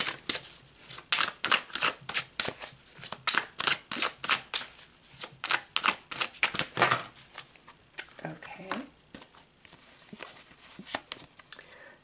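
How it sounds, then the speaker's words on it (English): Tarot cards are shuffled by hand in quick, crisp riffling bursts that come in a rapid rhythm, then soften into quieter, scattered handling of the deck near the end. "So let's shuffle again and pull some more cards."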